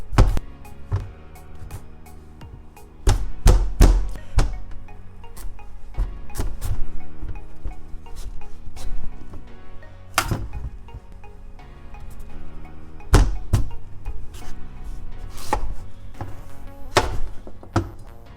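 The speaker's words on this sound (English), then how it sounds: "To cut your pumpkin, you want to just cut it into half." A knife chops through a pumpkin for Liberian pumpkin soup, with repeated sharp thunks and cracks of the blade hitting the board. The strikes come in irregular clusters over steady rustling handling noise, close and fairly loud.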